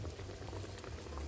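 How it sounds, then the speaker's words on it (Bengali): Elephant foot yam cutlets fry in hot oil, giving a loud, steady, close bubbling sizzle that runs without a break. "আমি তেলের মধ্যে দিয়ে দিচ্ছি"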